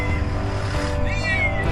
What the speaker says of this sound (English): When a man found a scared cat that was stuck inside his car